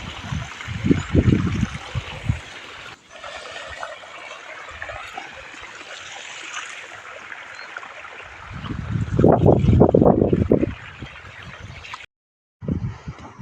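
Irrigation water flows into freshly made furrows in a farm field, a steady trickling wash with louder gurgling surges near the start and again around the middle, heard alone without talk.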